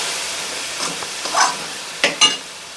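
Mutton liver and tomato sautéing in a pan with salt and turmeric, under a constant close sizzle broken by a few quick scraping stirs near the end.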